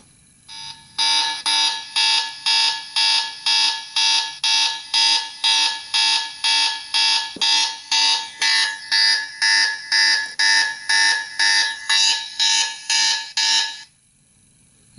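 An Armor X drone alarm sounds a long series of loud, piercing electronic beeps in a steady pulsing rhythm, about two per second for over twelve seconds, close and alone before cutting off abruptly.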